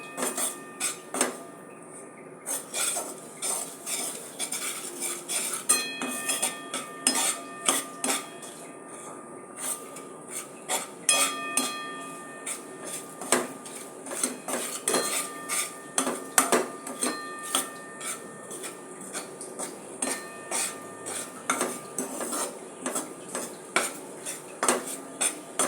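Wheat flour roasting in a pan for vegetable halva, stirred with a metal spoon that scrapes and clinks against the pan in a steady repeated rhythm, close and fairly loud throughout.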